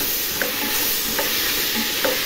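A vegetable biryani mixture with mint and coriander sizzles steadily in a pot. A few light taps and scrapes from a stirring spoon stand out above the continuous frying hiss.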